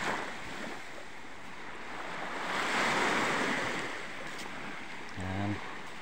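Surf washes onto a beach with rock formations, a continuous broad rush of waves that swells and fades, mixed with wind buffeting the microphone and a brief tonal sound near the end.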